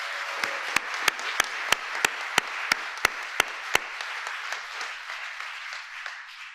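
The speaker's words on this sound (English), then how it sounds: "So we should give them a round of applause," An audience claps for White House staff at a labor union event. Many hands make a moderate applause that fades gradually, and a run of sharp, evenly spaced loud claps from one nearby person stands out early on.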